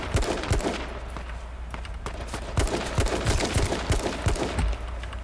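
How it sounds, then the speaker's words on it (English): Rapid gunfire in the H1Z1 King of the Kill battle royale game, with bursts of sharp shots cracking over a busy, noisy background of game ambience, fairly close and continuous through the stretch. "There's somebody shooting from behind me too."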